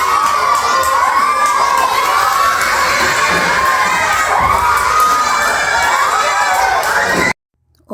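Schoolchildren shouting and cheering at a Nutrition Month school event, a loud, continuous roar of high excited voices that holds steady before cutting off abruptly near the end.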